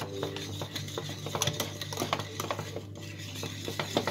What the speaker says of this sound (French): Alors je mélange bien pour éviter les grumeaux.